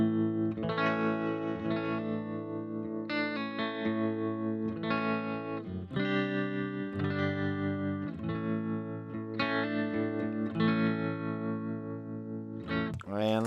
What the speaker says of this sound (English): let's turn on some tremolo, and we're gonna hear the tremolo only coming out of the FRFR speaker